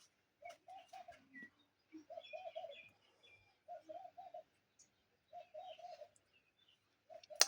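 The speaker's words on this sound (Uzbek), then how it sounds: "qanchalik sizlarga eshitilyapti qushlar ovozi?" Repeated soft cooing phrases from doves in a steady rhythm, with lighter chirps scattered above, moderately close with quiet gaps between calls.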